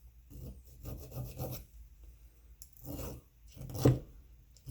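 A lathe tool scratching metal while turning a radius, giving a few rasping, gritty scrapes in separate bursts with quiet gaps between, close and moderately loud.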